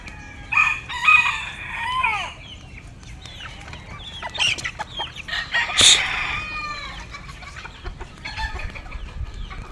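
Chickens and roosters at a farm chicken coop, several roosters crowing loudly and close by amid clucking hens, with goats also kept nearby.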